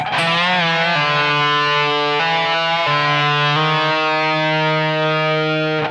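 Distorted electric guitar plays a riff from a rock song, its sustained harmonic-rich notes changing pitch every second or so, loud and close with no talking.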